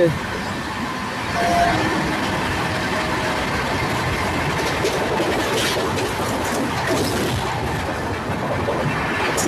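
Ratnachal Express with new LHB coaches runs at 130 km/h between Vijayawada and Visakhapatnam through Godavari district, a loud, continuous rushing rumble with steady wheel clatter and no break.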